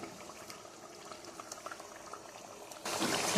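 Ginger, garlic and onion paste sizzles in hot oil for a Bengali potol chingri curry, a soft steady bubbling crackle that swells abruptly into a loud rushing sizzle near the end as the paste hits the oil.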